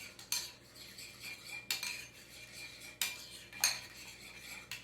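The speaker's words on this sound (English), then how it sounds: "Then we put some sriracha sauce, so it gets nice and spicy, and we just mix that." A utensil mixes sushi filling with sriracha sauce in a bowl, giving four distinct close scraping clinks against the dish at spaced intervals, quiet with no speech.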